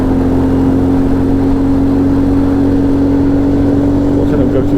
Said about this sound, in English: You can hear it, it comes on cam and it starts making it's really happy now.